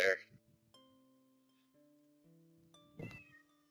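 A pet cat meows several times, close and fairly quiet, with soft background noises between the calls.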